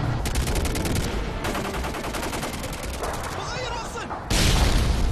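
Rapid automatic gunfire in a video game match rattles in fast, loud bursts, briefly pausing before another heavy volley near the end.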